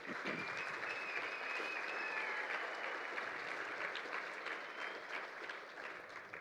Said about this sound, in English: Let's give another round of applause and wow for Lee and